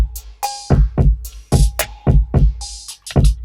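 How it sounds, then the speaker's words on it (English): An R&B beat plays basic percussion hits run through delay, with sharp, punchy strikes in a steady rhythm and echoing repeats trailing after them, loud and clear with no voices. "it's just that basic percussion with some delay on there."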